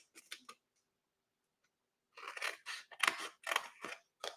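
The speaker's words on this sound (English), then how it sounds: "we're just going to do a little bit of snipping" Scissors snip along the side score lines of a paper treat box, a few quick close cuts, a pause, then a denser run of crisp snips.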